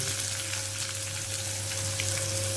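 Large onions frying in oil with cumin, curry leaves, dried chilli and garlic, a constant close sizzle with a low steady hum from a kitchen appliance underneath, no voices.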